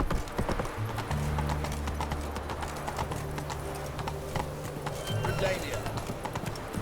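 Horse Roach galloping in The Witcher 3, a rapid run of hoof clip-clops with a low rumbling drone, moderately loud, and a voice speaks over it briefly.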